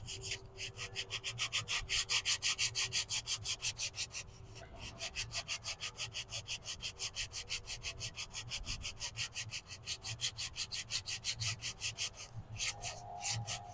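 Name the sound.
sanding juniper wood with 100 grit sandpaper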